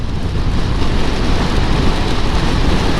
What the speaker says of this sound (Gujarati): હવે વરસાદ તો ફૂલ ફ્લેશમાં ચાલુ થઈ ગયો.